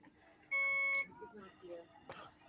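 A single electronic tone sounds for about half a second, loud and steady, then cuts off. Faint talk carries on before and after it.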